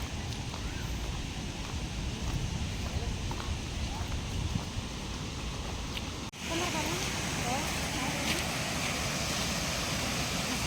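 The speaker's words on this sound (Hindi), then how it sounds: "अभी वाटरफॉल के सामने हम पहुंच चुके हैं।" Waterfall at Bilpudi, heard as a continuous broadband rush of falling water that fills the scene. A brief dip near the middle is followed by a slightly louder, brighter roar.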